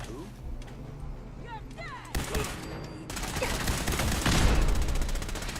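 Gunfire from a companion in Fallout 4, a dense run of overlapping shots building from moderate to louder and continuing steadily, close to the listener.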